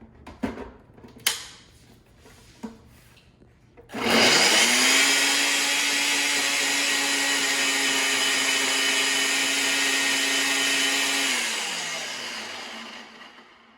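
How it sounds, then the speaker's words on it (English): Countertop blender whirring through chopped beets and sweet potatoes, starting after a few clunks of handling, running loud and steady for about seven seconds, then winding down as the motor slows. "I'm going to blend all these together just enough to break up the beets"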